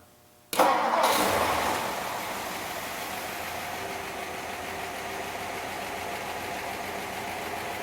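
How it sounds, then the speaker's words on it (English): A 1957 Ford Thunderbird roadster with a 312 V8 cranks briefly and fires, flaring loudly before settling into a steady, close idle with no voices. "This 312 sounds really good."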